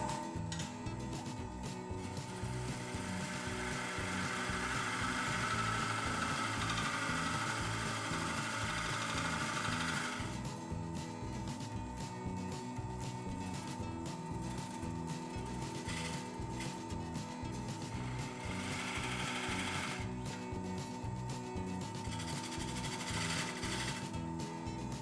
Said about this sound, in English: Just a little more shaving with the spindle gouge should do this.